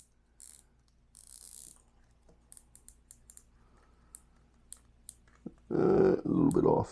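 Invicta watch bezel turned by hand, a series of sharp, separate ratchet clicks spaced through a quiet stretch, followed by a person speaking close by.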